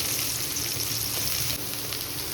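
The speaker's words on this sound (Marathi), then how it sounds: "कांदा जास्त भाजून घ्यायचा नाही, हलकासच भाजून घ्यायचं" Onion fries lightly in oil in a pan, producing a steady, close sizzling hiss without pause, with faint stirring touches underneath and no voices.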